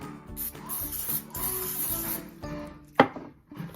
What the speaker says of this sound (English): we're gonna go ahead and spray it with some baking spray